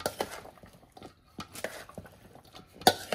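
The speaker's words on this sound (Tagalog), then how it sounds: "Ngayon, tsaka natin hahaluin siya." Salmon kinilaw, a Filipino ceviche mixture, being stirred and tossed in a bowl, with a run of soft wet scrapes and light clinks of utensil on dish, close and quiet, plus one sharper clink near the end.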